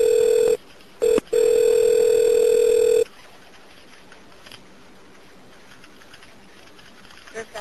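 A telephone rings loudly while a 911 emergency call is transferred to the fire department: a steady electronic tone breaks briefly twice, then holds for a couple of seconds before cutting to quiet line hiss.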